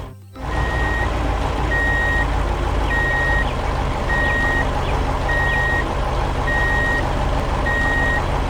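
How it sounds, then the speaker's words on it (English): A cartoon construction truck reverses to dump a pile of debris, its backup alarm beeping in a steady even rhythm over a loud continuous engine drone. "Have Dex take this pile of debris and dump it over at the empty plot."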